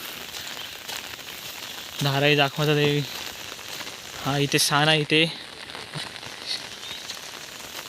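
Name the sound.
heavy rain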